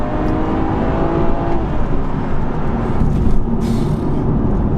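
A car overtakes beside a BMW 340i on the road, heard as a loud, steady engine and road roar with a faint passing swell. The noise stays continuous throughout.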